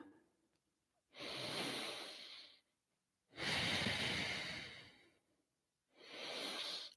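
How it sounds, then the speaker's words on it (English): Three slow, easy breaths taken while holding a yoga twist pose with hand on heart, each a soft airy rush lasting one to two seconds, close and clear, separated by brief silences. "Take a couple easy breaths."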